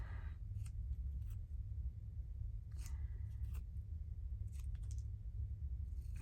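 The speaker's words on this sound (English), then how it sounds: "Let's just cut this out." Scissors snip through a stamped paper journal card in a few short, crisp cuts, close and fairly quiet over a low steady background hum.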